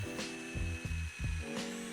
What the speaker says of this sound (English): drill some holes for the arms and neck